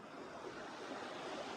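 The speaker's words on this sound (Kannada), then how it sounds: "ಕೆರೆಗೆ ನೀರು ಹರಿದು ಬರ್ತಾ ಇದೆ." Water pours into the historic Muchakhandi lake in Bagalkot, making a continuous rushing wash like surf that stays steady throughout, with some wind noise on the microphone.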